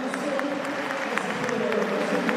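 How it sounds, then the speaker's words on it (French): An audience applauds at a cesta punta match in a fronton, a dense, continuous patter of many hands, with a faint voice and a steady tone running underneath. "Les applaudissements du public."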